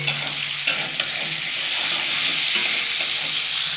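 Chopped onions fry in a pan for fish curry, a loud close sizzle running throughout, broken by several sharp scrapes and knocks of a spatula stirring them.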